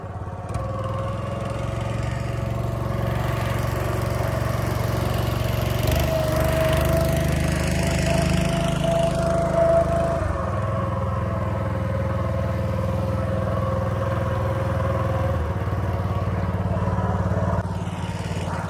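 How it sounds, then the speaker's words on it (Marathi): Boat motor driving a fishing boat out toward fish traps, a steady, loud droning engine hum that runs unbroken for the whole stretch with no talk over it. "अशा प्रकारे आपली बोट चाललेला आहे"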